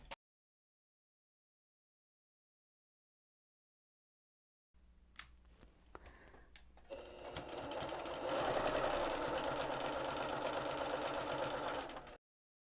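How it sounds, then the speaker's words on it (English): Sewing machine stitching quilt block rows together for a Double Monkey Wrench block, a few short bursts first, then a steady, fast, continuous whir lasting several seconds, close and clear with no talk. "I'm going to just put these two together and sew."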